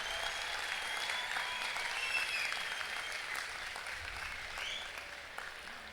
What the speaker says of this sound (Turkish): Kocaman bir alkış istiyorum kıymetli ailelerimiz için